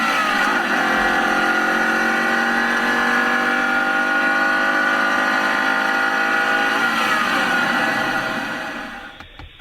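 A 2015 Ford Mustang engine revs loud and close in a sustained, rising drone with layered harmonics, holding steady for most of the stretch before dropping off sharply at the end; no voices are heard.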